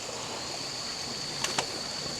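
Creek water rushing steadily over rocks at a hiking crossing on the Ship's Stern route in Lamington, Australia, a close, continuous wash with a couple of brief splashy clicks.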